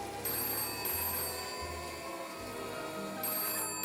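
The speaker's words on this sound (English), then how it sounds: "the phone rang in the other room" A telephone rings in another room, quiet and distant, with repeated electronic trilling bursts separated by short pauses.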